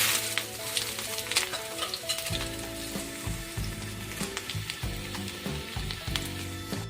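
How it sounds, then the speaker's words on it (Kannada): Sliced onion sizzles steadily in hot oil over a low flame for a tempering, with a continuous close frying hiss and occasional stirring scrapes throughout. "ಇದನ್ನೀಗ ರೆಡ್ ಕಲರ್ ಬರುವ ತನಕ ಫ್ರೈ ಮಾಡಬೇಕು"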